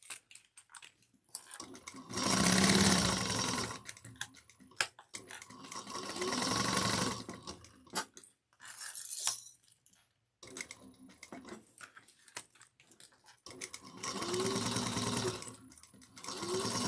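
A sewing machine top stitches a handheld bag at 1/8 inch in several bursts of rapid, clattering stitching, separated by short pauses and quiet handling noises.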